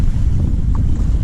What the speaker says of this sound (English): I can't get out of the wind.